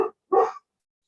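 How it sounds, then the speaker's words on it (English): A dog gives two short barks close by, a brief one followed by a longer, louder one, with silence after. "taking this opportunity to bark at somebody"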